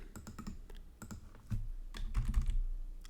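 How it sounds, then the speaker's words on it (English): Fingers tapping a computer keyboard, a close quick run of key clicks in short uneven bursts with brief pauses between, quiet and without voices. "Here's what you need to type."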